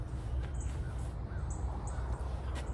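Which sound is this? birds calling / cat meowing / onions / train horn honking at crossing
birds calling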